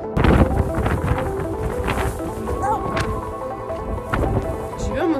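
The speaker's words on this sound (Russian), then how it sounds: "Ветер дует." Strong wind blowing high on Mount Elbrus, a loud continuous roar buffeting the microphone with gusty surges throughout, no voices.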